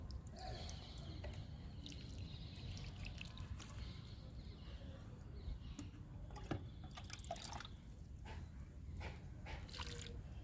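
Steady trickling and dribbling of water running slowly onto potting soil in a repotted adenium pot, with faint drips and soft wet squishes, no voices.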